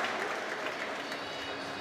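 Partisan squash crowd at the Tournament of Champions roaring and applauding after a game is won, dense sustained clapping and cheering with a commentator talking over it.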